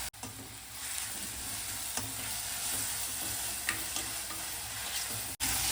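Onion and green chili frying in a pan, a continuous close sizzle with occasional light clicks of stirring, steady throughout and briefly cut off near the end.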